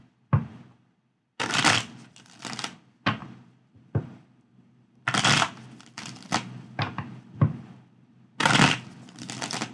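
Tarot cards shuffled by hand in several bursts of crisp riffling and flapping, with soft thumps and short pauses between shuffles, close and fairly loud with no talking.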